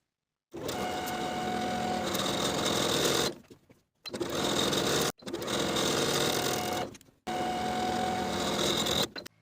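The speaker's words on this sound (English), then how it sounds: "repeat the same process to sew together your hood lining pieces" A sewing machine stitches together hoodie hood lining pieces in four loud, fast, steady bursts. Short silences separate the bursts, and there is no speech.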